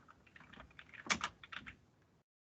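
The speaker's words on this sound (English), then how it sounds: "you can just start typing." Quiet typing on a computer keyboard, a short burst of a few soft key clicks with a cluster of louder taps in the middle, then silence.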